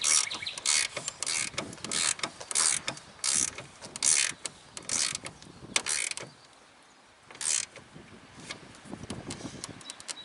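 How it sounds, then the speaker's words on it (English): A hand ratchet tightens an oil separator mount on a 2011 EcoBoost Ford Flex, sounding as rapid close clicking bursts in repeated strokes with a brief quiet pause midway. "So I'm going to take our ratchet."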